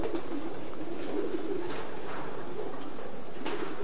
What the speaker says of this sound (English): these are sprint pigeons